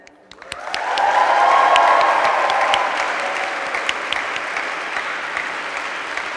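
A welcome-event crowd at the Segovia campus erupts into cheering and applause. The sound rises quickly to a loud roar of clapping and whoops, then settles into steady sustained clapping with sharp individual claps near by.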